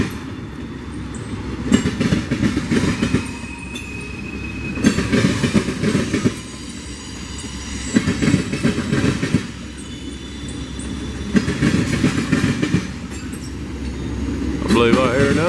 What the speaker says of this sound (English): Man, that's a lot of tank cars.